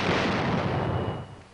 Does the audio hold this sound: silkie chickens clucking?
no